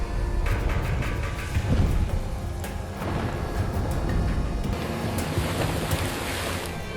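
Storm thunder rumbles heavily through a fire-truck rescue scene, a dense, continuous roar with rolling swells and sharp cracks under dramatic sound, loud and close throughout.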